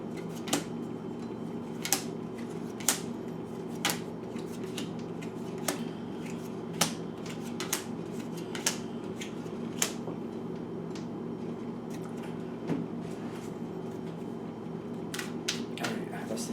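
Tarot cards are shuffled with a repeated series of crisp riffling clicks and snaps at irregular intervals, close by, over a low steady background hum.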